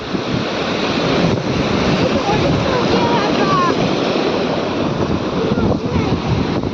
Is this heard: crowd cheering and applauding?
no